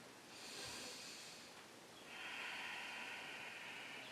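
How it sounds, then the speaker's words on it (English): Slow, steady breaths during a yoga down dog pose, a soft airy exhale followed by a longer hissing breath, quiet and close with no talking. "Breathing."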